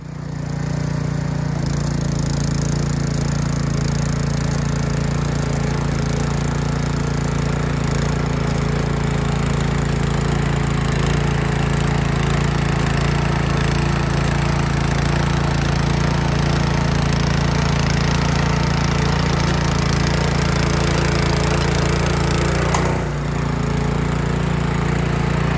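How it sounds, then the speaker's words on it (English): A Craftsman rear tine tiller engine runs steadily while churning soil, a loud continuous droning rumble close by with a brief dip near the end. "So I'm gonna get the Craftsman rear tine tiller. We're gonna go back across that a few more times"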